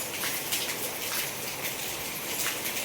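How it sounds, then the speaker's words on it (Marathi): Heavy rain at a house, steady and dense, with a broadband hiss of drops on surfaces throughout and no talk. "लागला खूपच पाऊस"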